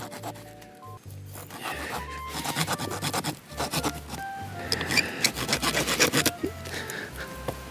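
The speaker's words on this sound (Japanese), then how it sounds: "こちら側はノコギリだけど、ちょっとどれぐらいの切れ味かな" Rhythmic rasping strokes of a small saw blade on a multi-function camping shovel cutting through wood, close up, in quick back-and-forth bursts with brief pauses.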